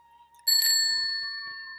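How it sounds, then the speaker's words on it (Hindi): Bicycle bell struck once on a child's bicycle at home, a bright metallic ring with a sharp onset that lingers and slowly fades, close and clear with no talk over it. "घंटी बजा"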